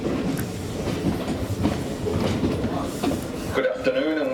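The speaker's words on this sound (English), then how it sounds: "This train is for Hunts Cross." A passenger train on the Southport to Hunts Cross service rumbles along with steady clickety-clack of wheels on rails, heard from inside the carriage, ending with the soft hiss and chime of an onboard announcement system.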